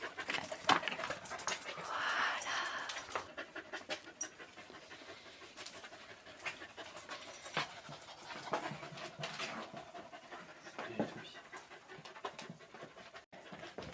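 Dogs panting close by, rapid steady breathing with occasional soft whimpers, continuous through the scene with no talking over it.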